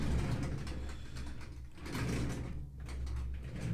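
A desk drawer slides open and is rummaged through in an art sketching workspace, giving close, steady scraping and shuffling clatter, with a brief lull partway through and no talking.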